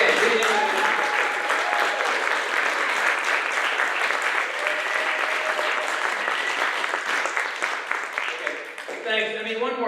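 A church congregation applauds for several seconds, dense steady clapping that fills the room, then fades out as a voice starts speaking at the end.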